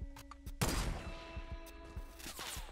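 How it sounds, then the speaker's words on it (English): Gunfire in Fortnite: a sharp sniper-rifle crack lands loudly near the start, followed by a run of quieter shots popping at irregular intervals over a dense game soundscape. "Just tried to snipe me."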